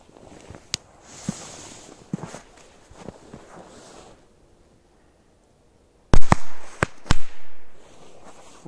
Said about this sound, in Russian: Очень быстро четыре взрыва.